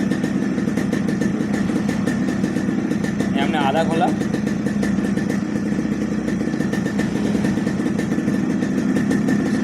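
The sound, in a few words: Yamaha RX100 motorcycle engine revving as mixture screw opens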